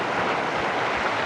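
Waves roll in at Arambol beach in Goa, a loud, steady broadband wash of surf that fills the whole moment without a break and without any voices.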